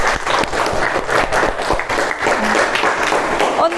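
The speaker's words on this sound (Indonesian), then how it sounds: "Beri tepuk tangan untuk Mbak Sophia." A classroom group claps for Mbak Sophia, a dense, steady burst of many hands applauding close by for a few seconds.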